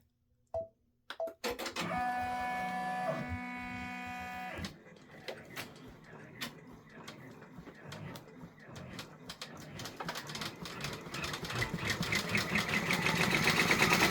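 Brother embroidery machine stitching white thread on a gingerbread village freestanding bridge design, starting with a steady whirring hum, then rapid rhythmic needle clatter that grows louder and denser, close by.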